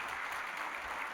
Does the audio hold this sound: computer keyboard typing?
no